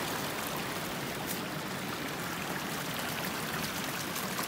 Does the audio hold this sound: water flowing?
yes